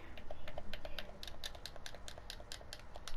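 Rapid keystrokes on a computer keyboard, a quick run of light, close clicks in an uneven rhythm with brief pauses, heard alone at a fairly soft level.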